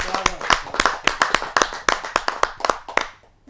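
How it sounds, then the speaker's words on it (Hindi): Loud, steady clapping from an audience at a Hindi poetry gathering, dense sharp hand claps running for several seconds before trailing off at the end. "जोरदार ताली के साथ आमंत्रित करता हूं"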